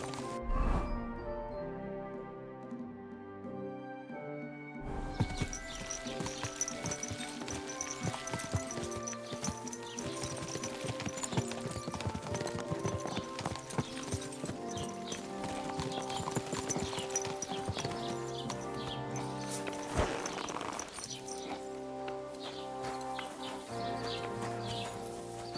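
Horse hooves clip-clop in a steady walking rhythm over a bed of ambient music, with faint birdsong in the background, in the video game Kingdom Come: Deliverance 2.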